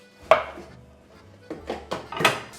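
Cleaver chopping onion on a board in a home kitchen, a few sharp knocks spaced unevenly, one isolated chop followed by a quick cluster of three, close and dry.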